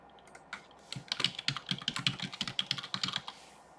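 Rapid typing on a computer keyboard while logging into a virtual machine: a close, crisp run of clicking keystrokes that starts sparse and builds into a dense, quick rhythm.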